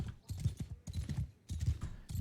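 Horse hooves clip-clop in Mount & Blade II: Bannerlord, a steady rhythm of close, moderately loud hoofbeats that pauses twice before resuming, with no clear neigh.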